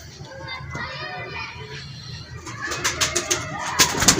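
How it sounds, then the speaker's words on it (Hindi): A golden-breed pigeon coos, the soft calls rising into a cluster of sharper, louder bursts near the end against a faint murmur of background activity. "और गोल्डन कबूतर है"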